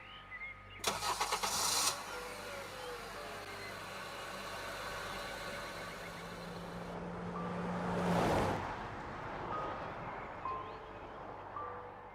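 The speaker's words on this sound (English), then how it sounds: "Can you try the car again?" A car engine is cranked to start, with a rattling burst of starter noise near the beginning, then a low running hum and a second surge of noise later, set against quiet outdoor ambience with no talk.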